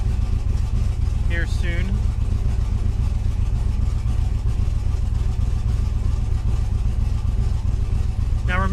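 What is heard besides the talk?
car engine running to warm up the O2 sensor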